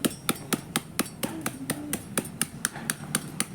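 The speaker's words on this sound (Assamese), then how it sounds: "মই ঔটেঙা কাটি ল'ম।" An elephant apple (outenga) is chopped for a fish curry, a knife striking a board in a steady series of about fifteen sharp, close knocks, with a faint voice murmuring underneath.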